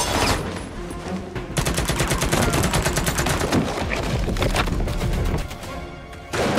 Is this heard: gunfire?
yes